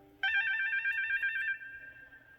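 A bright electronic page-turn chime from a talking Big Bird book rings out once, close and clear, then its tone lingers and fades softly.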